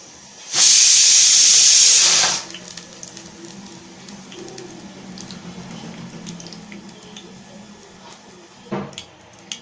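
Cumin and fenugreek seeds, with mustard seeds, hit hot oil for a Tamil shallot kara kulambu, giving a loud, close burst of sharp sizzling hiss for about two seconds before settling into a faint, steady crackle.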